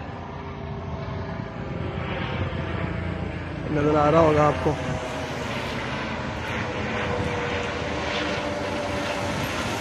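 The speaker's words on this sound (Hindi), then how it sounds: "और ये आपको हेलीकॉप्टर दिखाते हैं," A helicopter drones overhead above a residential street in Bochnia, Poland, as a steady engine hum with a brief louder pass, while someone talks over it throughout.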